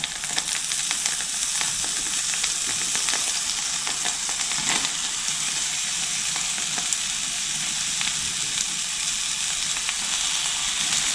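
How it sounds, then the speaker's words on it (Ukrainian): Steady, dense sizzling of onions frying in butter in a pan, a continuous crackling hiss with occasional sharper pops, close and fairly loud, no voices. "До розігрітого масла відправляю цибульку."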